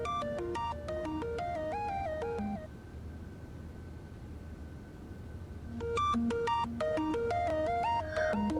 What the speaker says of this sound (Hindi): जरा फोन उठाना, ऑफिस से होगा।